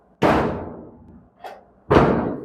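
The passenger door of a 1936 Chevy truck on an S10 chassis is shut, giving two loud, close metallic slams with a lighter knock between them, each fading quickly.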